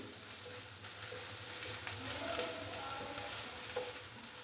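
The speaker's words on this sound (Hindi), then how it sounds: "प्याज को हल्का सा फ्राई कर लेंगे।" Chopped onion sizzles and fries in hot oil in a pan, a steady close crackle broken by occasional stirring scrapes, with no talking.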